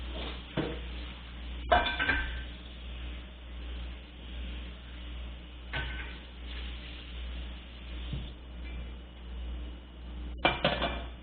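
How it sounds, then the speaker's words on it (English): A pot or sauté pan being washed out, with scattered clanks and scrapes of metal against a sink over a low steady hum, fairly quiet with a few sharper knocks. "Excuse me while I wash this pot out really quickly."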